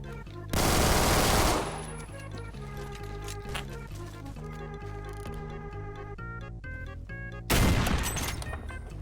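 A G18 machine pistol fires in the video game Phantom Forces: two loud, rapid full-auto bursts, one near the start and one near the end, with game music playing between them.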